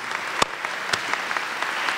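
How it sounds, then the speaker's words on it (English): Sparse clapping from an audience at a university awards ceremony, a few distinct sharp claps over a light patter of hands, moderately close and fairly quiet. "give yourselves a big round of applause"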